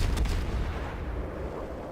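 AP shells fire from a warship in the World of Warships naval game, a heavy booming blast at the start that rolls into a low fading rumble, loud and alone.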